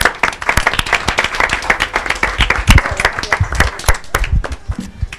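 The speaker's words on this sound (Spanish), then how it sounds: "Un aplauso para ella, por favor." An audience breaks into lively applause, sharp close claps rattling steadily for several seconds with no talk over them.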